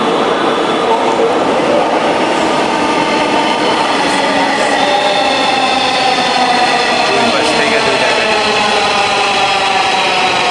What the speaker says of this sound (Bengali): আর কিছুক্ষণ পরেই ট্রেনটি চলে আসবে।